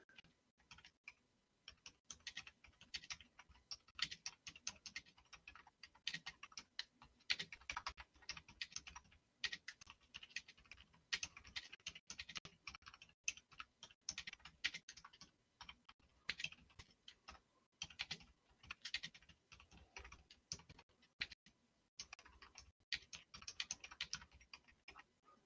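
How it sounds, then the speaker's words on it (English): Fast typing on a computer keyboard, a long, dense run of quiet, close key clicks in quick irregular bursts with brief pauses. "This is me typing quick as I can."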